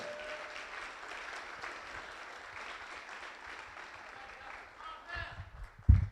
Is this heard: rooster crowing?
no